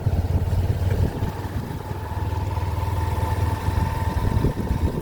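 A small motor van engine runs steadily and close by, a low throbbing drone with a faint higher whine that continues without a break and with no speech.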